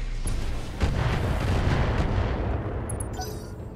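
Mech weapons fire in the BattleTech mod Roguetech: a sharp burst followed by a sustained roar of heavy cannon and missile volleys, loud and close, fading toward the end.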